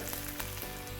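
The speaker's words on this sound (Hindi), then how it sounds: "अब लौंग से थोड़ा दूर, क्योंकि तेल में जाते ही फूटती है" Whole cloves dropped into hot oil, a loud, close, dense sizzle with sharp crackling pops throughout the brief moment, no voices.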